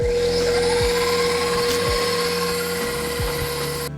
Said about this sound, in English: We're gonna throw our whisk attachment on there, and then we're just gonna beat it